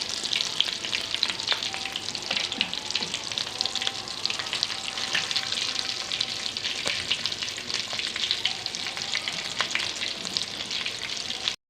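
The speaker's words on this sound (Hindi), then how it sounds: "रोल हमारे फ्राई हो चुके हैं" Aloo chicken bread rolls frying in hot oil, a dense, steady crackling sizzle with fine popping bubbles, close and continuous without any talk.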